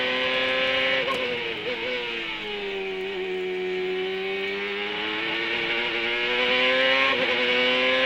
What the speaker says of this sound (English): One of only 3 cars on track right now, so we'll have clean racetrack.